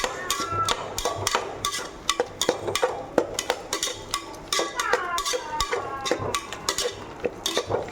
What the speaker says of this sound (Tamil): கோவக்காயும் போட்டு நல்லா வதக்கணும்